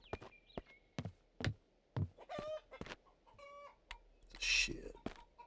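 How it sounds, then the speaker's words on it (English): Game chickens cluck in short repeated bursts with a rooster-like call, fairly close and loud, scattered across the stretch alongside brief noisy effects. "What's with the chickens, man?"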